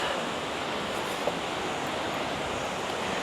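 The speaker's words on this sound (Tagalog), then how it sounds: "Nakikita ko na yung Batis." Steady rushing water from a stream near Bukal Falls in Majayjay, Laguna fills the scene, a constant broad wash, with no voices.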